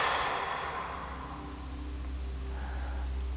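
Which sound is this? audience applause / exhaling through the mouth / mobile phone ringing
exhaling through the mouth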